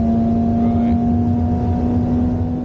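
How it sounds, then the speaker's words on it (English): Ferrari SF90 hybrid supercar accelerating hard at Yas Marina circuit in Abu Dhabi, a loud, steady, close engine drone with a strong sustained tone and no pauses. "The acceleration is probably the most defining thing about this car."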